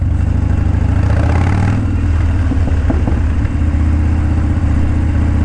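A motorcycle ridden on the road through Port Jefferson, captured from a helmet camera: a loud, steady engine drone with rushing wind, the engine note dipping and rising briefly midway.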